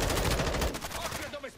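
Gunfire in the Call of Duty video game, a dense, loud burst of rapid automatic shots that fades slightly toward the end.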